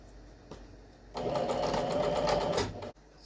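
A sewing machine stitches a bolster tube around a circular end piece at about a quarter-inch seam, running steadily and close for over a second before it stops.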